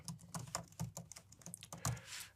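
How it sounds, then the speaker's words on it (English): A computer keyboard clatters as an email address is typed in, a quick, uneven run of close, crisp key clicks with no voices. "Now I'm going to type in my email address"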